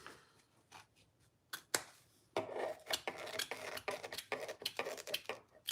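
Scissors cut open a piece of fabric for sewing a crossbody bag, sounding as a run of close, crisp snipping and rasping strokes, sparse at first and then rapid and irregular.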